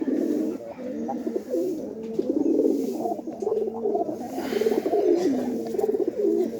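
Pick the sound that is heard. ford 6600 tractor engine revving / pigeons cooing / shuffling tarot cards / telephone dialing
pigeons cooing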